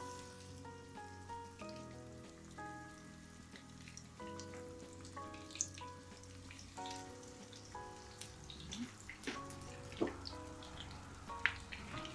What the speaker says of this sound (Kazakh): Әдемілеп қуырамыз осыны.